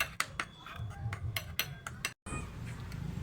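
A face pack mixture with rose water being shaken in a bowl, giving a string of quick, close clinks and knocks, followed by a brief gap and then a softer rustling.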